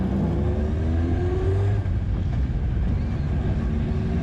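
A Konig race car pulling out of the pit lane at the Mettet circuit, its engine a loud, close, continuous drone that rises gradually in pitch as it picks up speed, with steady wind rush over the microphone.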